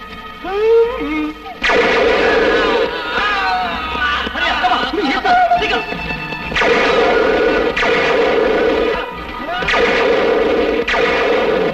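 Gunfire rings out in a violent action movie scene, sharp shots and crashes landing in bursts over a dense, loud soundtrack with raised voices and commotion throughout.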